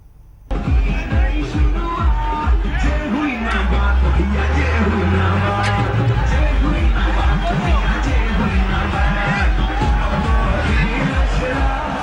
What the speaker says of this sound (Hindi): रोड शो के दौरान जनता की भीड़ भी खूब दिखाई दी